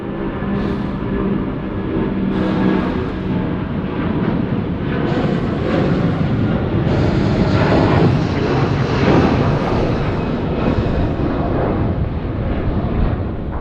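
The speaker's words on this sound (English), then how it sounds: "As AirAsia climbs out, we've got the 100 livery." An AirAsia airliner climbs out after a night takeoff at Sydney Airport, its broad jet engine roar loud and sustained, swelling and rumbling with a steady low-frequency drone.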